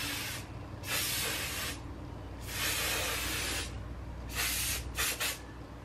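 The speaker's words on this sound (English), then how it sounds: "I'm gonna use the Unite Max Control Stronghold hairspray to kind of lock this" Unite Max Control Stronghold hairspray misted onto freshly curled hair in several hissing bursts, two longer sprays followed by a quick cluster of short ones, close and clear with no talking.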